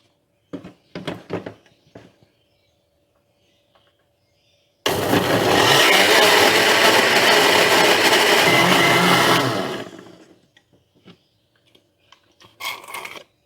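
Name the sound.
blender grinding spice paste for milkfish otak-otak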